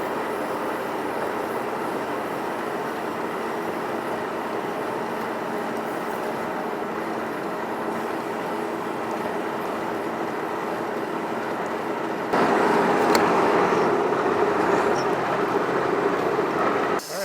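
A drill bit boring through tough AR500 plate steel with mist coolant gives a steady, close mechanical drone that runs unbroken and grows noticeably louder and harsher near the end.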